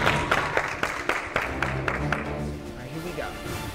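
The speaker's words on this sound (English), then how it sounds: "All right, ladies, clap it up for her." A small group of women claps for a dancer at a dance team tryout. Distinct, fairly regular claps ring out over the first two seconds, then thin out and fade under quiet voices.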